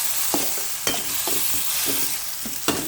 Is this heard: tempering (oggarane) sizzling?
yes